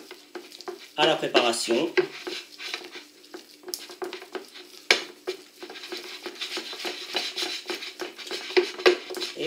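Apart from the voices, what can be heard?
stirring grated gruyère into a gougère batter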